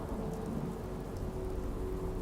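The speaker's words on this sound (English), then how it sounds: "We're gonna sit right here in the rain," Steady rain pours down in the game Fallout 4, with a low rumble of thunder rolling beneath it, the downpour dense and continuous and at moderate volume, with no voices.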